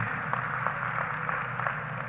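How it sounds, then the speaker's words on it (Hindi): Sustained audience applause at a Maharashtra political rally where the Chief Minister is being honored, a dense steady wash of many hands clapping with a constant hum underneath and no voices standing out. "एक बार तालियां बजा के देवा भाऊ का अभिनंदन कीजिए।"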